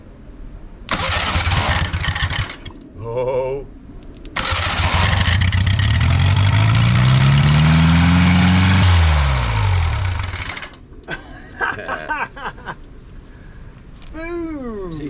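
A car engine with a newly fitted exhaust cranks, catches and roars into a rising rev before dropping away, followed by sputtering restarts; a person gives a short exclamation.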